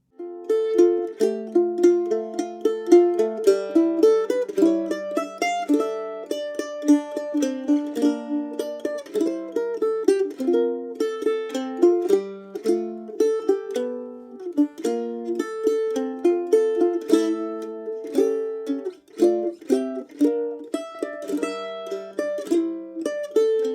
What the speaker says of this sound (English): we're going to have an arrangement that sounds a bit like this